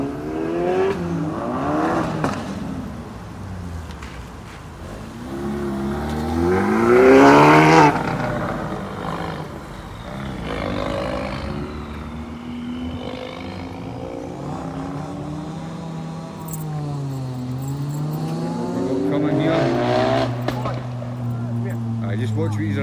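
Modified cars, including an RS Turbo, pull out of a UK car meet one after another, engines revving and accelerating loudly past, with a rising roar near the middle and people talking over the noise.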